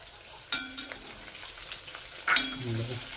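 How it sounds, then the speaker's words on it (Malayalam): Oil is poured into a heated biryani pot and sizzles, giving a sharp hiss near the start, a quieter stretch, then a louder bubbling fry toward the end, close and alone. "ബിരിയാണി പോട്ട് റെഡി ആയിട്ടുണ്ട്, ചൂടായിട്ടുണ്ട്. നമുക്ക് ഓയിൽ ഒഴിച്ചു കൊടുക്കാം കേട്ടോ."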